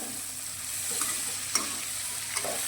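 Bitter gourd (karela) fries in oil in a pan, a steady close sizzle broken by a few sharp scrapes as it is stirred.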